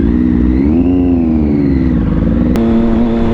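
A motorcycle engine idles at about 2,000 rpm after a tune change, a loud, steady, close-up hum with a slight waver in pitch and a brief click partway through.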